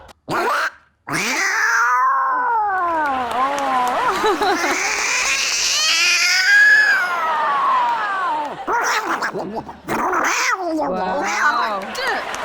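A human performer on stage imitates a cat, drawing out long wavering meows and yowls up close, loud and expressive, with brief pauses between cries.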